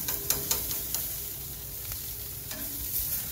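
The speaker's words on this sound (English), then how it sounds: "I gotta get a good sear on it. Gotta have the flame." Picanha beef sears over an open flame for a reverse sear, making a continuous close sizzling hiss broken by a few sharp ticks and pops.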